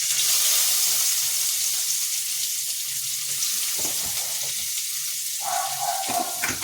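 Chopped garlic and ginger fry in a pan with a bright, steady hiss of hot oil, fairly close, with a few soft clinks and shifts near the end and no speech.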